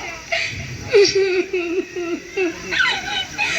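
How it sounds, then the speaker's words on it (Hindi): A woman in a short stage drama cries and sobs, giving wavering, broken wails in several bursts close by. "पत्नी रोती बिलखती रह जाती है"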